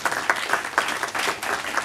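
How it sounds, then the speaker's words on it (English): Audience applause for speakers at a marketing talk, a steady burst of many hands clapping at close range with no voices over it. "one more round of applause for our speakers, please."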